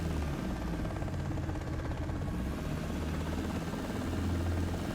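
An aircraft engine runs at full throttle in the X-Plane 12 flight simulator, a steady loud droning hum with a buzzing propeller beat that holds even for several seconds, with no talking.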